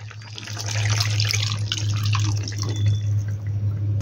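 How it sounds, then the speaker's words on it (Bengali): Milk is poured into a simmering Bengali bitter gourd and potato curry, a steady liquid splash and trickle over a constant low hum from the stove. "এবার এতে দেব পরিমাণ মতো দুধ।"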